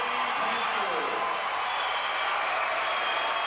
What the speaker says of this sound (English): And now you will hear a roar for the Lady Panthers.